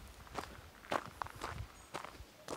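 Footsteps crunch in an uneven rhythm while someone walks down a hill toward a lake in Wicklow Mountains National Park, Ireland, with faint outdoor ambience around them and no talking.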